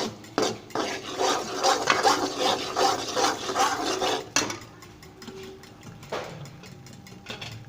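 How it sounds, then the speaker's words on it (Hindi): A spoon stirring gram flour in cooking oil in a pan while making gram flour and egg halwa, heard as steady close scraping and rubbing strokes that ease off after a few seconds into quieter occasional scrapes. "इसको अपनी मसलसल चम्मच चलाते जाना है ताकि बेसन नीचे ना लगे।"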